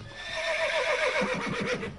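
A mare neighs loudly at an Indian wedding procession, a wavering whinny that breaks into shaky pulses toward the end, over background commotion without clear talk.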